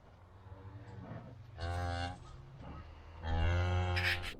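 A cow that has just calved lets out two loud, drawn-out moos close by, separated by a short pause, with quieter low grunting and rustling between them.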